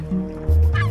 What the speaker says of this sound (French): Tu entends ce bruit? Quand les oiseaux font « Watcha!